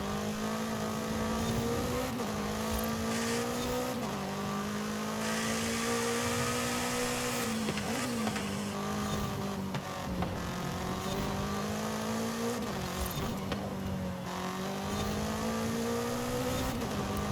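A BMW M5 CS racing in Forza Horizon 5. The loud, close engine drone rises and falls in pitch as it revs through the gears, steady and continuous with no talk over it.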